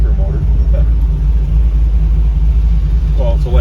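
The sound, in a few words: Trans Am 416 stroker LS3 engine cruising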